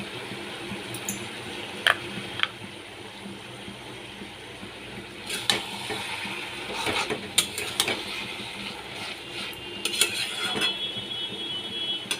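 Hilsa fish head and ash gourd curry is stirred in a pan, with scattered clinks and scrapes of a spoon against metal over a low background hum, quiet and irregular.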